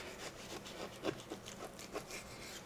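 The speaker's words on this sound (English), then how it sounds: "lay your knife flat against the bone, come out with it. Roll with the bone itself" A knife working meat off the bone while trimming cuts for breakfast sausage, Italian sausage and chorizo, giving soft repeated scraping and rubbing strokes up close with no talk.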